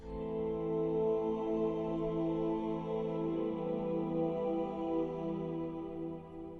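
A sustained Odin2 software synthesiser pad drenched in reverb, holding a rich chord of steady layered tones at an even, fairly quiet level for several seconds with no voices.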